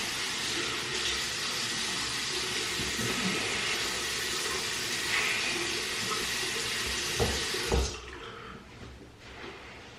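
Tap water runs steadily and loudly over hair being rinsed, a continuous broad splashing that shifts slightly as the flow is moved, then cuts off near the end, leaving faint drips and handling sounds.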